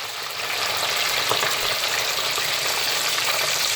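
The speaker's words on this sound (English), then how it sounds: "Then you just allow your fish to fry just like that." Whole fish, head and tail on, frying Jamaican escovitch style in very hot oil, giving a dense, steady close-up sizzle and crackle that holds evenly throughout with no voices.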